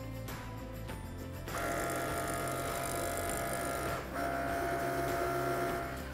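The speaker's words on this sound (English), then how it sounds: "press the Cricut button and you're ready for your first cut" A Cricut cutting machine makes its first cut on a T-shirt project, giving a steady mechanical whir and buzz of motors and carriage movement. The sound is close and continuous, with a short dip partway through.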